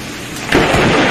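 Lightning strikes a tree during a storm, and the thunder breaks suddenly at mid-clip into a loud, close, broad rumble over rain.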